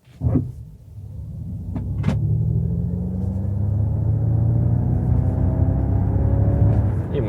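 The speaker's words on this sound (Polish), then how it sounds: "żeby przyspieszyć maksymalnie musimy wcisnąć jednocześnie hamulec i dodać gazu" A Ford Mustang Mach-E 98 kWh electric car launching at full power from a standstill, a low rumbling drive hum and rising motor whine building steadily after a brief thump, heard from inside the cabin.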